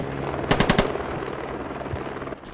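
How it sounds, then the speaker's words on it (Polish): A quick burst of automatic gunfire in the video game Squad, four or five rapid shots, followed by a lingering low rumble of game ambience. "Strzały"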